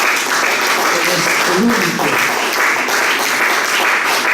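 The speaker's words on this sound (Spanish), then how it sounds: "el Señor se merece un par de palmas" A church congregation claps for the Lord in a steady, dense wash of applause, with a voice speaking briefly over it in the middle.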